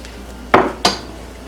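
Clay pot handled as butter is added for egg fried rice, two quick close clunks of utensil against the pot in succession, then quiet.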